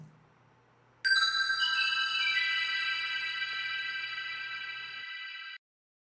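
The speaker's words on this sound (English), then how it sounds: "I recorded them with a super long reverb afterwards" Bells ring out together in one bright, sustained cluster, swelling under a very long reverb that holds a shimmering wash for several seconds before cutting off abruptly, with a quiet low hum beforehand.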